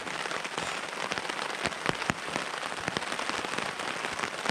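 Rain from a thunderstorm patters steadily on a camping tarp close by, with scattered louder drops tapping through the even hiss.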